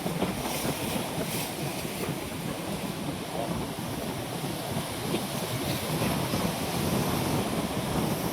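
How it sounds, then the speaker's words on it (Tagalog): Big ocean waves breaking on the beach at Daet in the Philippines, a dense continuous roar of surf mixed with strong wind buffeting the microphone, loud and unbroken throughout. "Alon na laki ng alon."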